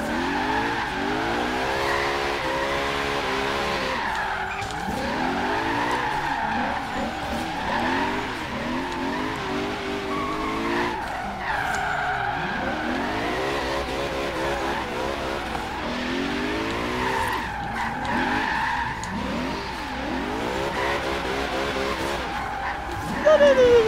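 A supercharged car drifts around a parking lot in the video game Forza Horizon 3, its engine revving and wavering through repeated long tire squeals, loud and continuous throughout.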